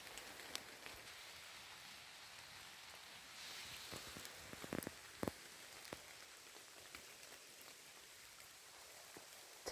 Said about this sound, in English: after this rain, and it's supposed to rain a bit tomorrow